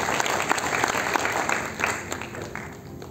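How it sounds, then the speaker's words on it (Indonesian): Church congregation applauding at a Christmas service, steady dense clapping filling the space throughout, with faint voices mixed underneath. "Tepuk tangan paling meriah buat Tuhan."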